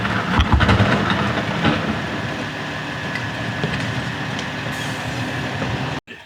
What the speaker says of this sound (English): we're back after the trash truck just came through